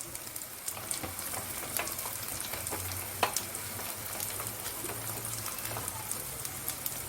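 Masala for prawn biryani fries in a pan, giving a quiet, steady crackling sizzle with scattered small pops and no talking.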